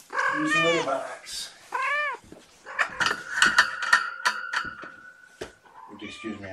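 Several young kittens give high, drawn-out meows in quick succession close by, mixed with a person talking softly over them.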